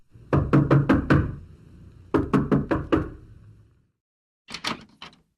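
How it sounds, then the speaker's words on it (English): Knuckles rap on a wooden door in two close sets of about five quick knocks, a pause, then a shorter burst of three, crisp and dry with silence between. "Eliza went to the house and knocked on the door."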